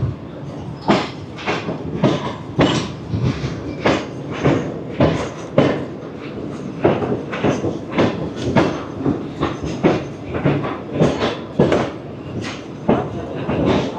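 Tezgam passenger train running into Khanewal Junction platform, a steady rolling rumble with rhythmic clickety-clack of wheels over rail joints, loud and close throughout, no talking.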